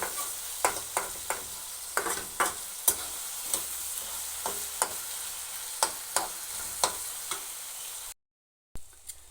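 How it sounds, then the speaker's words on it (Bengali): Potatoes fry in a pan with a steady, bright sizzle, broken by about a dozen sharp scraping stirs at an irregular rhythm, close and clear, ending in a brief silence before one last tick. "এবার একটু আলুটাকে ভাজা ভাজা করে নিই"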